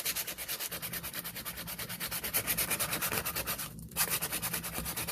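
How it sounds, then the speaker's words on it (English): Sandpaper is rubbed over a gesso-coated journal page in rapid, even back-and-forth strokes, producing a close, steady rasping scratch with a brief pause near the end. "And then I'm gonna sand with the sand paper."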